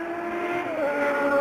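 Race cars at the 1968 Le Mans 24 Hours, including a Ford, sound as a sustained engine drone with a rising whine as a car passes, loud and fairly close, with no talk.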